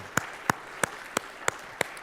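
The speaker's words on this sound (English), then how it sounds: "We'd like to give you a round of applause." At a teacher-honoring event, six sharp, evenly spaced claps ring out in a steady rhythm over a quiet background.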